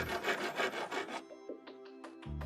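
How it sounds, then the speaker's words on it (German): A file rasping a tap hole to size in a BLANCO kitchen sink, with a quick run of close, rough back-and-forth strokes followed by a few light scrapes and a short pause. "Anschließend das Loch mit der Feile auf die passgenaue Größe bringen."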